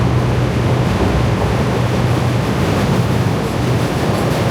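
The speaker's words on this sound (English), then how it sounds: "standing here on the train platform. There's a lot of excess noise." Loud, steady broadband rumble at a train platform with construction work nearby, a continuous noisy wash with a low hum running through it and no speech.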